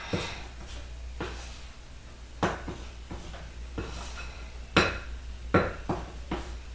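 Chocolate chip walnut cookie dough being mixed in a bowl, with irregular close knocks and scrapes of a utensil against the bowl over a quiet background, and no talking.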